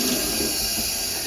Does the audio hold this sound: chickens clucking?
no